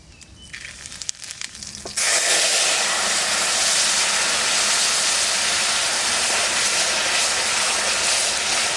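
Bay leaves and cumin seeds hit hot oil in a home kitchen pan, setting off a sudden loud, steady sizzle and hiss after a quieter opening of small clinks. The sizzle stays close and continuous to the end.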